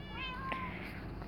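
A cat meows close by, one drawn-out rising-and-falling cry over steady low background hum, with a second fainter mew toward the end.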